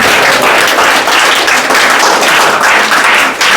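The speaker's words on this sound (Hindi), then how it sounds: "ताली बजाओ भाई" A group of schoolchildren claps together in loud, sustained applause, a dense continuous patter of many hands close by with no pauses.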